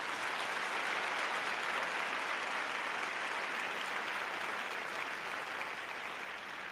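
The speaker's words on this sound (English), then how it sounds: "That clap was answering your question." A live show audience claps in reply to the host's greeting, a steady wash of crowd applause that stays at a constant level from start to end and is heard from a short distance.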